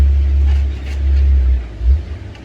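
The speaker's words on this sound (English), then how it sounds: "Have some trucks coming up the road up here." Trucks drive up a nearby road, giving a steady low engine rumble that swells and eases, with a louder pass near the end and no voices over it.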